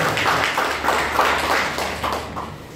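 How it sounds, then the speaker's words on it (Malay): Crowd applause for Encik Syukur at a Malay-language seminar on gold investing, a steady wash of many hands clapping that swells and fades in waves for under three seconds, close and moderately loud with no talk over it. "Kita berikan tepukan gemuruh kepada Encik Syukur kita kan"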